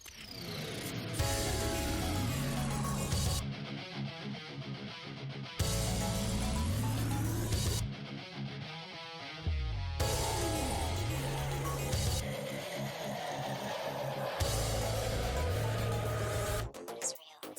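Glitch music track: dense, distorted electronic textures with repeating bass patterns, abrupt cutouts and stuttering breaks, loud and continuous throughout.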